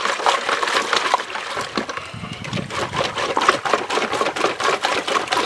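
Laundry is agitated by hand in a tub of water and rubbed up and down against a mesh, producing close, rhythmic sloshing and scrubbing strokes in quick repeated bursts.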